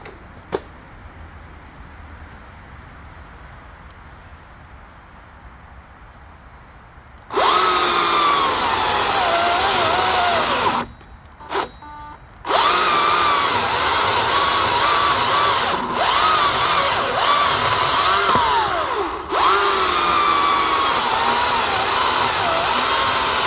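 Greenworks Commercial 82V 82CS34 battery chainsaw with an 18-inch bar on a 5 amp battery, revving loud and close in sustained bursts after a quiet stretch, with a brief cutoff and restart and a few dips in speed.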